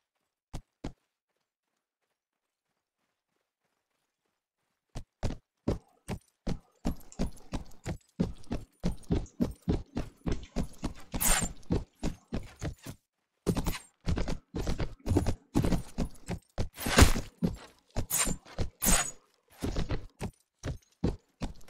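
Horse hooves clip-clop in the Mount & Blade video game, a steady run of sharp, close hoof strikes after a couple of isolated knocks and a silent gap, growing denser and louder toward the end, with no talking.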